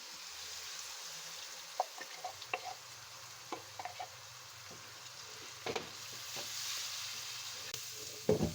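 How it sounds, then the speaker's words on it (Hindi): Tomato paste made from three or four tomatoes sizzles in a pan with spices already fried in oil, a steady soft hiss broken by scattered clicks and scrapes of stirring, with no talk. "अब सब मसालों को 1 से 2 मिनट के लिए मैंने अच्छे से भून लिया है ऑयल में"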